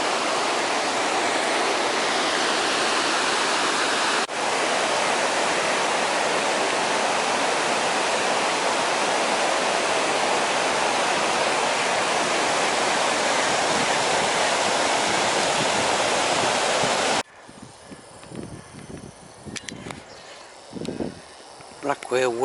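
Water pours steadily over a weir on the River Taff in Cardiff, a loud, continuous broadband rush that drops away abruptly near the end, leaving quieter outdoor sounds.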